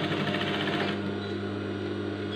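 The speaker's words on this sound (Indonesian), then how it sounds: "kita jahit ikutin garis tapi jahitnya kecil di sini" A sewing machine runs steadily, stitching a princess seam on a garment with a continuous close, loud mechanical whir that eases slightly partway through, no voices.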